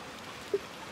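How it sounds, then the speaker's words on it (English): Rain falls steadily in the video game Little Nightmares II, a soft continuous patter with one brief small tap midway and no talk. "It's getting stronger and stronger."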